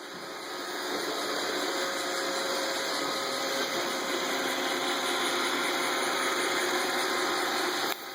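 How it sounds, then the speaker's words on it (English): An iRobot Roomba robot vacuum cleaner runs at home near a dog, giving a steady, fairly quiet whirring hum that rises slightly in the first second and then holds even throughout, with no voices. "iRobot Roomba. Pretty cool. See how it works."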